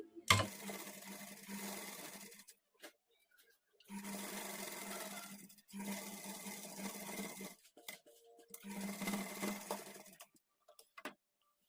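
A sewing machine stitches the front part of a blouse in four separate runs of steady close whirring, each lasting a couple of seconds with quiet pauses and small handling clicks between them.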